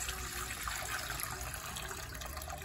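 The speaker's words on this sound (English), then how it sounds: "Okay, I'm going to pour some water." Water poured steadily in a continuous splashing stream, close and fairly loud, with no talking.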